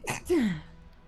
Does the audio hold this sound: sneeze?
yes